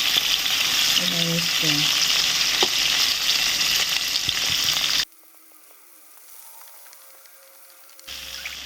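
Ingredients for an egg gravy curry fry and sizzle in a pan, a steady crackle with brief speech early on, cutting to near quiet before resuming at the end.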